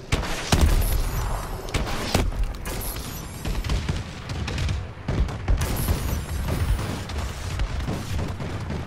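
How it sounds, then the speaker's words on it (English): Bombing run in Call of Duty: Advanced Warfare multiplayer, a string of heavy booming explosions and gunfire bursts hitting at irregular intervals, loud and dense throughout. "Bombing run incoming."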